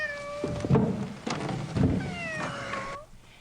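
Cats yowl and caterwaul at each other in a fight in the adventure video game Gabriel Knight 2, with long rising and falling wails, a couple of thumps and overlapping cries, close and fairly loud before quickly fading out.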